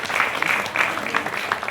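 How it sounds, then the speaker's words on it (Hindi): Audience applause for a team at an indoor gathering, steady clapping from many hands sustained through the whole stretch with small bursts, fairly close and full. "एक बार इस टीम के लिए भी जोरदार तालियां होनी चाहिए।"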